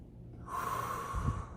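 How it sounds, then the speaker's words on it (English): One slow, deep breath drawn in through the nose, a close, airy hiss that swells and ends in a brief snorting rush. "we're going to take in a big breath like this"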